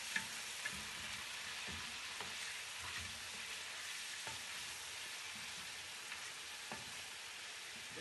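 Chicken sautés in a pan for a Kabsa dish, giving a continuous, fairly quiet sizzle. A few soft clicks and scrapes of stirring come up along the way, and there is no talking.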